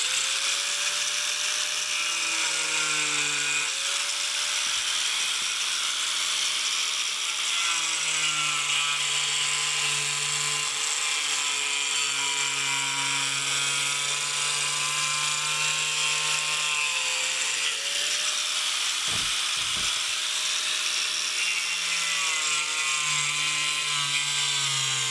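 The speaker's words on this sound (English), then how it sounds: "I'm going to use the angle grinder to cut along the line to get this" An angle grinder cuts a 17-inch steel pipe section for a hydraulic ram pump, a loud continuous high whine that shifts pitch as the disc loads and eases, running steadily without talk.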